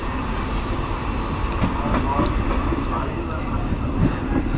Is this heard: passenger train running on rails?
yes